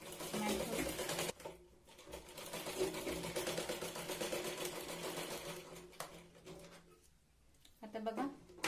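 A sewing machine runs a double line of stitching on a Katori blouse, its rapid mechanical rattle going in long close bursts with brief pauses in between.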